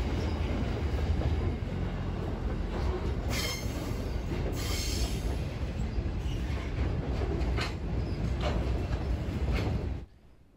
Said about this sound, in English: You can now see this train accessing the single track section towards Dungog.